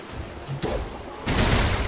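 Explosions in the Skylanders Trap Team video game: a muffled boom followed by a louder burst of several blasts going off together, over a low game background.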